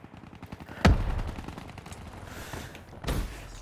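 Gunfire in the shooter game Black Ops 3: two sharp, loud shots about two seconds apart, each with a short rumbling tail, over a low background of game ambience.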